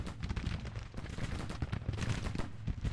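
Civil War battlefield in Grand Tactician, with 12-pound howitzers and small arms crackling in a dense, irregular stream of shots, moderately loud and steady with no clear gaps.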